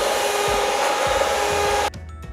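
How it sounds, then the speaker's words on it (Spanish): An electric mixer whips cream for a banana tart, a steady, loud whirring drone that runs for about two seconds and then cuts off abruptly, with no talking. "Pide a un adulto que te ayude a batir."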